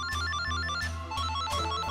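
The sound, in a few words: telephones ringing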